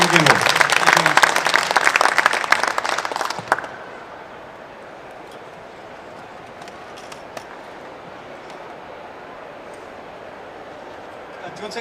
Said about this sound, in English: please give a round of applause to Walter Koenig and Simon Gimbel